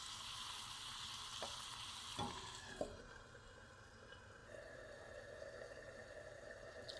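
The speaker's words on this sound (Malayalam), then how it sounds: "ഇപ്പം നന്നായി തിളച്ച് വന്നിട്ടുണ്ട്." Prawn masala gravy bubbles in a covered pan, a very faint, steady simmering sizzle with a few soft knocks and clicks early on, then a quieter, even bubbling.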